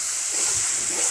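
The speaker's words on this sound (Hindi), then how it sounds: "अभी हम इसमें थोड़ा सा पानी डालेंगे" Water is poured into a hot pan of aloo gobhi sabzi, giving a brief, steady hissing splash close to the listener.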